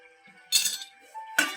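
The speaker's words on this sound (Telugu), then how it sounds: "ఇప్పుడు మూత తీసి చూద్దాము." A lid lifts off a pot with a bright metallic clink, then a second clatter about a second later, in an otherwise quiet room.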